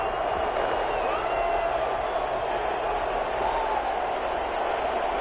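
Crowd applause and cheering fill a stadium in the Madden NFL 21 football video game after a defensive stop, a steady wash of noise throughout with game commentary over it.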